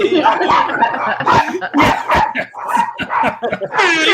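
Dogs bark and yip in quick bursts, fairly close and loud, with a voice speaking among them and a high whine near the end.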